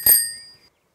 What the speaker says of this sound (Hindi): अब रिद्धि बजाएगी घंटी।